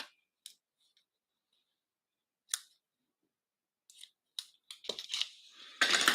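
Scissors snip ribbon off a stamped paper card in a handful of sparse, crisp cuts, close and quiet, followed by a quick flurry of rustling and paper handling at the end.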